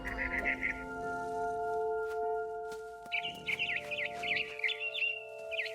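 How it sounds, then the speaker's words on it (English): A scared barn swallow in What Remains of Edith Finch chirps in short rapid bursts, one cluster at the start and a longer twittering run later, over a sustained tonal game background. "I heard chirping outside my window. It was a barn swallow going back to her nest."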